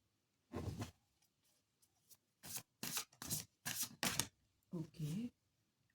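Tarot cards being shuffled in bursts of crisp riffling and rubbing, several short rounds with pauses between them, close and fairly quiet, alongside a voice speaking.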